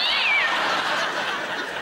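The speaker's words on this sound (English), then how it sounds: "Genuine noise there of a cat being given a reach around" A cat yowls in a single loud, drawn-out wailing meow played as a sound effect, rising and then sagging for nearly two seconds with no voices.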